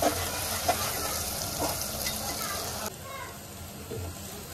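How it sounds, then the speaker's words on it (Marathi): Onion and tomato frying in a pan for prawn biryani give a steady, close sizzle with occasional stirring, while a voice talks over it and the noise drops a little partway through. "जे पण कांदा टॅमॅटो टाकला होता मस्त फ्राय झालेला आहे"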